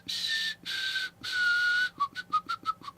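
A person whistles, holding three long steady notes and then breaking into a quick run of short, evenly spaced chirps, loud and close with no talking.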